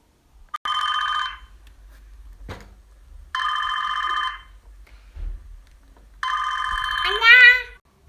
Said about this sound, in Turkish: Hadi Defne'yi arayalım.